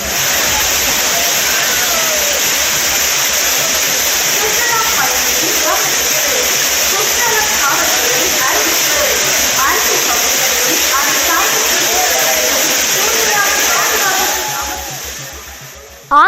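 A waterfall roars in a steady broadband rush where devotees and tourists bathe on New Year, with faint scattered voices and splashes beneath the continuous water noise before it fades at the end.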